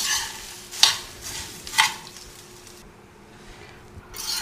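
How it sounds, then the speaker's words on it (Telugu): Jowar poha being stirred into a hot tempering in a pan, two distinct scraping stirs with a soft sizzle beneath, then quiet before another stroke at the end. "అటుకులను మంచిగా పోపులో కలిపేటట్టు కలుపుకుందాం."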